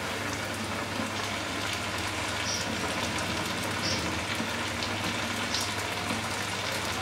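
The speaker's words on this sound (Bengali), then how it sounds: "চিকেন গুলোকে আমি মিডিয়াম আঁচে ভাজব" Chicken wings frying in hot oil over medium heat, a steady dense crackle and sizzle that stays even in volume from start to finish with no voices.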